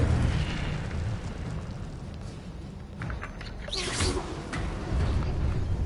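The Incendio fire spell cast in Hogwarts Legacy bursts out with a whooshing, crackling flare, followed by rumbling fiery noise and roaring game ambience.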